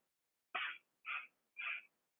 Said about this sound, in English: And now there's 3 little sniffs.